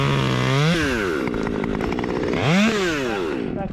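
Chainsaw with a steel-core flip line nearby, engine revving loudly up and down through two strong rises and falls in pitch while cutting a tree, close and continuous, no talk.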